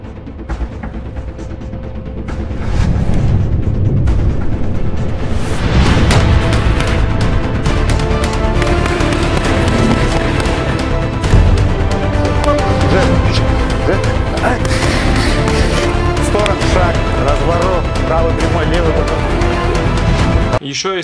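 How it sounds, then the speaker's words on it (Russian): Dense, loud mix of impact hits and whooshes cut to an MMA fighter promo, with a steady music bed and crashing accents throughout; a voice talks faintly underneath. "То есть каждый переход, каждый удар, каждый бросок у меня подзвучен каким-то звуковым эффектом."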